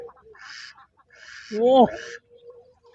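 Ducks on a village riverbank, one loud nasal honk-like call near the middle, with people talking quietly around it.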